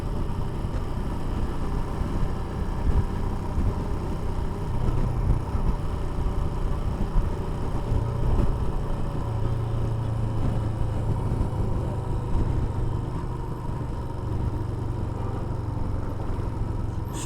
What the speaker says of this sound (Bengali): এদিকে সব গাড়িগুলো লেগে আছে।